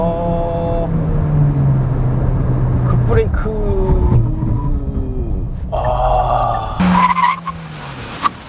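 A 2021 Hyundai Kona 1.6 turbo engine rumbles, then tires squeal and skid in a few sharp bursts as the car brakes hard with weak brakes, loud and close.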